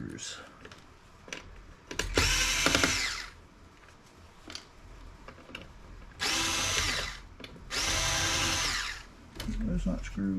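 A power driver backs out small screws from an old Dell laptop being scrapped, whining in three loud bursts of a few seconds each, with quieter tapping and handling noises between them.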